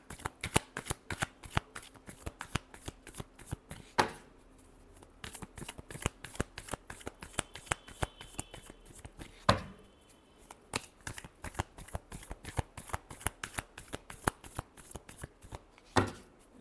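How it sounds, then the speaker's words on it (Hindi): Tarot cards shuffled by hand in rapid, continuous riffling bursts of crisp papery flicks. A few louder taps and pauses break the rhythm, heard close up with no talking. "Last shuffle."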